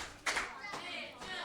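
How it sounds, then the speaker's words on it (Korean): Children in a Sunday school class clap in short bursts to draw focus, three quick rounds of hand claps close by in a small room, mixed with young voices. "집중의 박수를."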